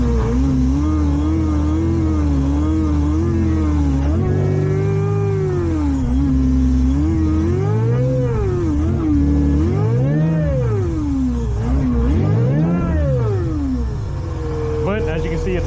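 A freshly running supercharged Honda NSX engine idles with a wavering tone, then swells and falls in pitch several times as the throttle is cracked open. The engine is close and loud, with a person talking over it.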